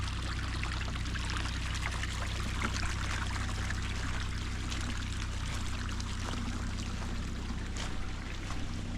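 Water running down a soaked, wooded hillside on a Kentucky property, a constant dense rushing and trickling wash, close and fairly loud throughout, with no speech.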